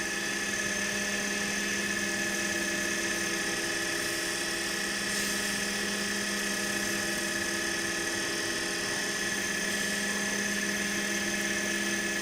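Steady high-pitched whirring of a spinning lathe sanding a pen, with a constant hum, continuous and close, no talk.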